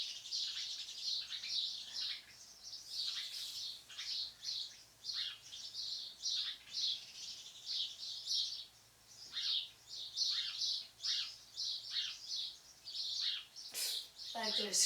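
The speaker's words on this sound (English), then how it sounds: "the birds are extremely loud" Loud birds chirping continuously in a dense, overlapping chorus of bright tweets and calls, close by and steady throughout.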